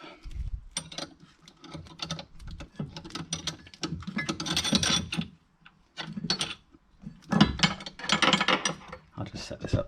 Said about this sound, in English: get the old spanner on, grab a second spanner